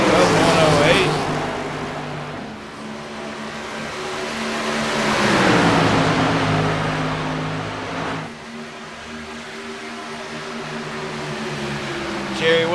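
Race cars battling in a four-car pack on a short oval in NHMRL racing, engines droning and swelling as they approach and pass, with a commentator talking over the roar.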